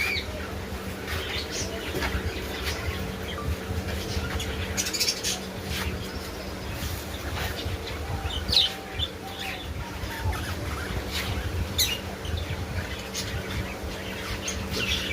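Birds squawk and chirp repeatedly over a constant background hum at a bird shop in a market, with scattered calls throughout and no clear talking.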